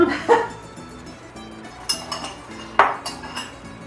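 A spoon scrapes and clinks around a mixing bowl while honey-roasted Greek nuts with sesame are being made, chasing a stray lump; several sharp metallic taps and scrapes come close and clear, spaced irregularly over low background hum.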